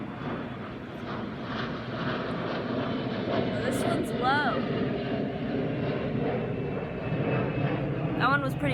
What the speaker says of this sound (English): There's always an airplane.